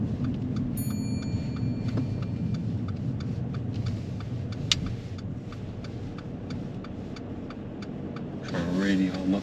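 A car pulls over and parks during a driving test, its engine running steadily from inside the cabin with a ticking indicator and voices talking over it.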